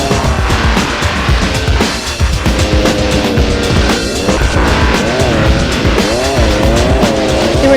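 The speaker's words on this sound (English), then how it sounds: "Speed Kings takes you into the thick of the action with some extreme street motorcycle racing." Street motorcycle racing from the 2003 video game Speed Kings, with engines droning steadily and loudly throughout and tires squealing as the bikes weave through city traffic, all under a continuous mix of game sound and music.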